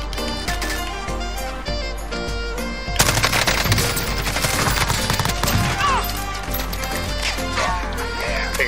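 Rapid automatic gunfire in the video game Warzone, loud and dense, with crisp bursts that intensify midway and layer over other game sounds.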